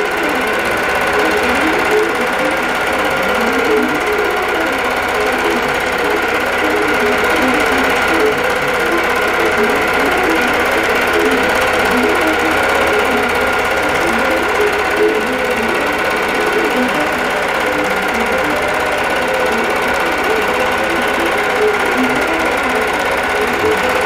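A computerized longarm quilting machine hums and stitches continuously, close and steady, running an edge-to-edge wholecloth quilt design with a rhythmic whirring pulse and no voices.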